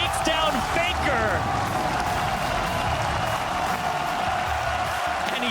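Arena crowd at a League of Lol All-Stars 2016 esports event in Spain cheering and roaring steadily and loudly throughout, with a commentator's excited voice riding over the dense crowd noise.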